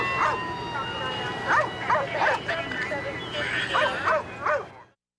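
Police dog from the Prince George's County police barking and yipping in repeated short bursts, fairly close and loud, over a steady background hum.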